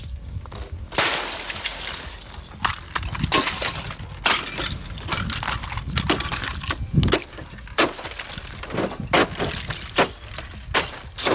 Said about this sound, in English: the natural sounds of this ice shattering are way better than any edited